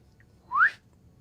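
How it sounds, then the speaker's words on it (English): A single short whistle blast, a rising shrill tone about a fifth of a second long, during a board game play session, clear against a quiet room. "use his whistle"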